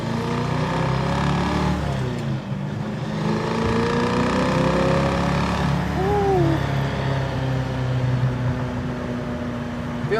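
A Mustang Fastback with a 302 engine hums steadily on a test drive, its engine note rising and falling under constant cabin road noise, with a brief voice partway through.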